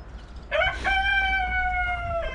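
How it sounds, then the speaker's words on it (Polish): A rooster lets out a clear, drawn-out crow at close range, preceded by a brief cluck, with a quiet farmyard behind it as hens are let out in the morning. "Dobra, kury puścimy."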